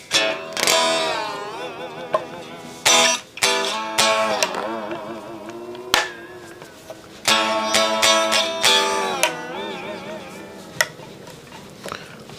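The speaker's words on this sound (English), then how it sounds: "So I'm going to try the trem for the first time and just see how it stays in tune here." Headless Eart GW1 electric guitar with its tremolo bar dipping and wobbling the pitch of loud sustained chords and notes, in several strummed bursts with brief gaps, played alone without talk.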